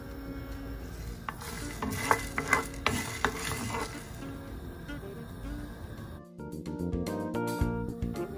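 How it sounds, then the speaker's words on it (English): Garam masala spices sizzle softly in a frying pan while a utensil stirs and scrapes, with a few sharp clinks against the metal, then music comes in. "Roast it on the frying pan."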